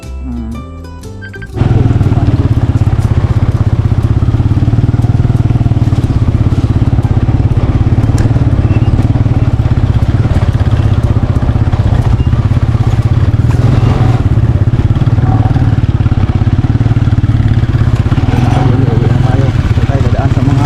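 A motorcycle rides along a bumpy rural farm track, its engine droning loud and close throughout with rattles and clatter over the rough ground, while people talk over it.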